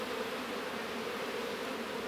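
Honey bees buzz steadily in a dense, close swarm while a hive frame is handled during a Varroa mite treatment, a continuous droning hum with no talk.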